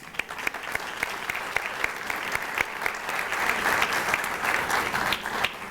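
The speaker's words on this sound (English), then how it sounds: "So that deserves a round of applause." A room full of people applauds at a back-to-school kickoff event, a dense steady clatter of clapping that carries on throughout without a pause.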